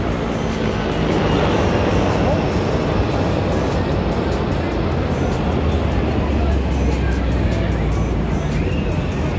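A helicopter flies over Dolomite Beach in Manila during an aircraft display, its steady drone blending into a constant wash of crowd noise and surf, loud and unbroken throughout.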